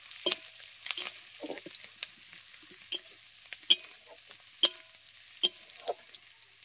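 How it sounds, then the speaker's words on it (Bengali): Onion and green chilli softening in a pan, a faint, soft sizzle broken by scattered scrapes and clicks as a spatula stirs them, with no voices. "এবার পেঁয়াজ আর কাঁচা লঙ্কাটাকে ভালো করে একটু ভেজে নিচ্ছি।"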